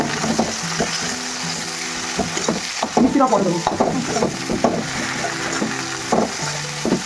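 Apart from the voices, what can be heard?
frying food being stirred in a pan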